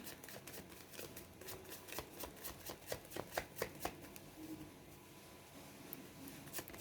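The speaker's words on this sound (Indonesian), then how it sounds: "Kita kocok kartunya." Tarot cards being shuffled by hand in a quiet room, a run of soft riffling flicks and papery slaps coming in quick bursts, close and fairly quiet, with no talking.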